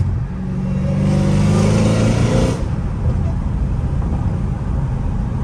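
A catless Dodge Hellcat Redeye accelerating hard on a street, its supercharged engine roaring loud and rising in pitch for a couple of seconds before easing into a steady rumble, heard from inside the car.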